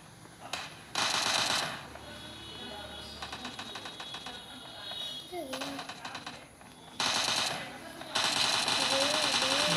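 PUBG gunfire in rapid automatic bursts, loud and clipped, breaking in and out across a match while a player talks over the action between volleys.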